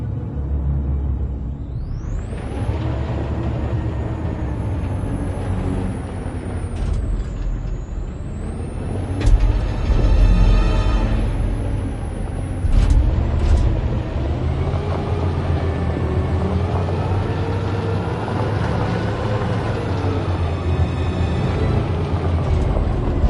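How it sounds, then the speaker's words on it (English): A heavy truck engine in the video game Detroit: Become Human rumbles steadily throughout, with a rising whine at the start and hissing air brake bursts partway through. "Okay, let's go get the truck."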